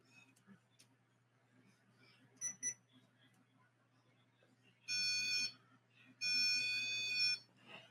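A REM pod paranormal investigation sensor sounding off: a couple of brief electronic chirps, then two bursts of loud, steady high-pitched alarm tone about a second each, close by, with faint talk underneath.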